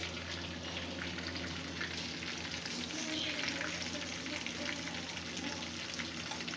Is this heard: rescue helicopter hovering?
no